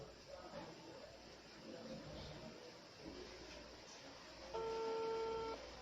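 A telephone rings with a steady electronic tone lasting about a second near the end, faint against a constant hiss and background noise.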